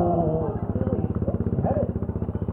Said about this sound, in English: The DRZ 400 normally an enduro bike